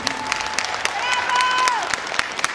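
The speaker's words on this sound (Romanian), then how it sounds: "Haideți să auzim aplauze pentru Happy Step Junior și Happy Step Senior" Scattered audience clapping at a December 2021 Christmas show, moderately loud with uneven individual claps, mixed with a speaking voice and a brief tonal sound.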